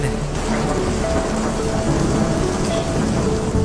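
Heavy rain pours down in a dense, steady roar of drops striking surfaces, loud and continuous with low rumbling beneath, and no voices present.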